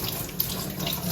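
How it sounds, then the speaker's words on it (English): Tap water runs steadily into a sink as an onion is rinsed under it, a brief close splashing hiss. "I'm just going to give it a quick rinse."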